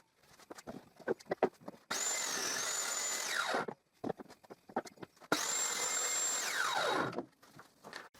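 A table saw with a spline jig makes two long whining cuts through the corners of a wooden workpiece, each a few seconds long and rising then falling, with clattering handling sounds between them.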